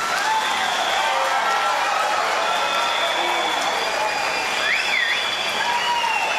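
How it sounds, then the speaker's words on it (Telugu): An audience at a motivational seminar claps loudly and continuously for a speaker, a thick, even wash of applause with faint whistle-like tones running through it. "ఈరోజు గట్టిగా ఆయనకి చప్పట్లు కొడితే మంచిది"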